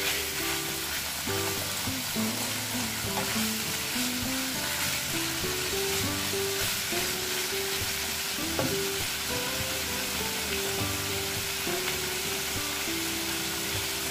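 Chicken pieces with garlic and lemongrass fry in a pan, giving a dense, constant sizzle and crackle with occasional stirring scrapes. The sound is close and steady for the whole stretch, with no speech.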